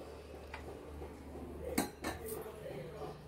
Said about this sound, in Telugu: ముందుగా స్టవ్ పైన ప్యాన్ పెట్టుకుని ఆయిల్ వేసుకుని